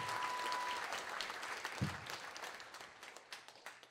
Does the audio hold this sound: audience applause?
yes